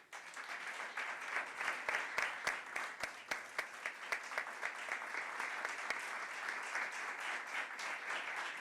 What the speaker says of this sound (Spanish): Brindamos nuevamente un fuerte aplauso.